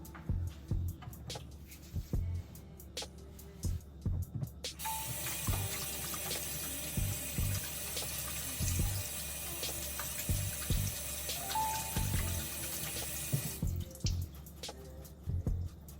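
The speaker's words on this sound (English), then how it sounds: "First, I'm going to wash my hands." A kitchen tap runs steadily for several seconds while hands are washed beneath it, a continuous close hiss of water over a rhythmic thumping music bed that carries on before and after the flow.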